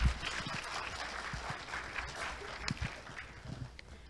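An orientation audience at Korea University's international winter campus claps to welcome a speaker, a moderately loud, uneven patter of many hands with a few sharper individual claps.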